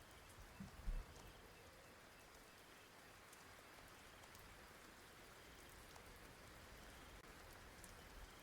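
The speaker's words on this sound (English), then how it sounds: "the sounds in the background's gonna fuck it up? Like the rain and the wind" Steady rain patters on surfaces behind the scene with a faint wind hiss, a continuous quiet wash after a brief knock near the start.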